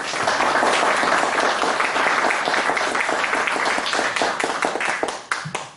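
An audience at a POW MIA event claps in a dense, sustained round of applause that thins to a few scattered claps at the very end.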